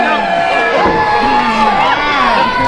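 Crowd noise at a live professional wrestling event fills the clip loudly and continuously, with cheering and shouting voices layered over a dense murmur.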